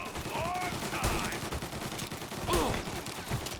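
Gunfire in the video game Mafia: Definitive Edition, bursts of rapid shots and a few louder blasts within a busy, dense game mix, with brief voice sounds mixed in.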